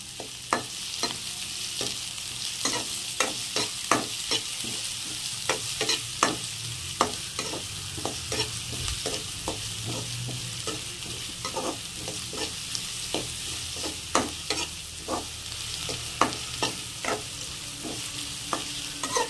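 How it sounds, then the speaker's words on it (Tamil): Dried red chillies and onion deep fry in hot oil, a soft continuous sizzle broken by frequent sharp scrapes and taps of a spoon stirring, alone without speech. "நாலு காஞ்ச மிளகாய், கொஞ்சம் வெங்காயம் போட்டு நல்லா டீப் ஃப்ரை பண்ணிக்கணும்."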